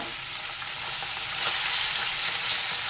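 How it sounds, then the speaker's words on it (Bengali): Fish rubbed with salt and turmeric frying in hot mustard oil in a wok, a loud steady sizzle and crackle throughout, with no voices. "এবার মাছগুলোকে দিয়ে ভেজে নেব।"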